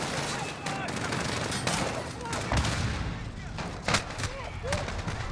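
Dense gunfire from above in the Modern Warfare video game campaign: rapid overlapping shots and bursts, loud and close, running continuously with sharp spikes throughout.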